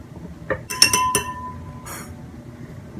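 Glass clinks several times as a cumin and lemon juice drink is prepared and poured into a drinking glass, with bright ringing taps spaced over a few seconds in a quiet kitchen.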